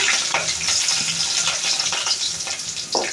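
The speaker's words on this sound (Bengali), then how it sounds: "প্রথমে তেল দিয়ে দিচ্ছি হ্যাঁ পেঁয়াজ মরিচ দিয়ে দিলাম" Chopped onion and chillies fry in hot oil for a prawn dish, giving a dense close crackling sizzle with occasional stirring scrapes.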